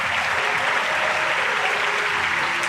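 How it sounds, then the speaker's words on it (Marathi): Sustained applause from an audience welcoming a singer on stage, a dense, steady crackle of many hands clapping that stays loud and even throughout, with no voices above it. "जोरदार टाळ्या होऊ द्या प्लीज"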